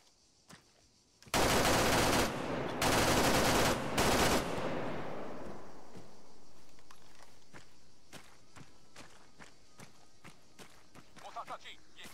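Machine gun fire in the military shooter ARMA 3, a loud close sustained burst of rapid rounds in two or three stretches, then a long fading rumble and scattered distant single shots.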